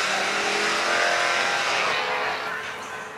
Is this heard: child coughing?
no